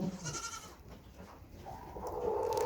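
A baby goat bleats on a farm, a thin wavering cry near the mic rising toward the end, with soft rustling and barnyard background.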